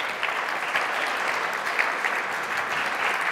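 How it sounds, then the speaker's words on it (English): An audience at an evening art presentation applauds steadily, a dense, even clapping that holds at moderate loudness for a few seconds with no speech over it. "Another round of applause, please."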